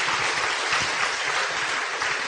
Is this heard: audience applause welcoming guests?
yes